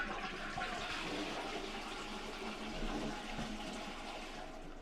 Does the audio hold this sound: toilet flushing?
yes